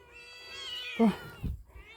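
A single drawn-out cat meow with a rising, whiny pitch. It comes close and clear, and a soft thump follows near the end.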